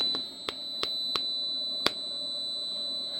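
An Invacare HomeFill oxygen compressor alarm trips, sounding a steady high electronic tone with a handful of brief clicks or chirps over it, close and moderately quiet, no voices.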